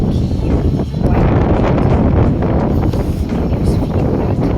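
Strong wind blows outdoors, buffeting the microphone with a loud, continuous low roar and gusty rumble that never lets up for the whole stretch.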